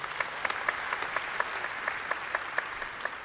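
A church congregation applauds during a sermon, with a soft crowd clap under a prominent rhythmic beat of evenly spaced claps, roughly four per second, and no talking.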